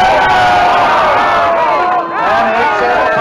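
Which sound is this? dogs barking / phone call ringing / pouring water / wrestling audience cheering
wrestling audience cheering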